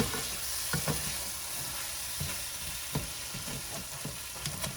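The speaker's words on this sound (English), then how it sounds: "So I'm just going to turn it on low, give it another stir." Taco filling simmers on low heat in a pot, a steady soft sizzle and bubble running throughout with occasional clicks and scrapes of a spoon stirring, close and fairly quiet, with no talking.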